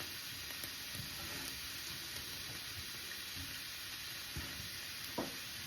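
Vegetables sautéing in a pan for meatloaf give a faint, even sizzle throughout, broken by occasional soft clicks of stirring.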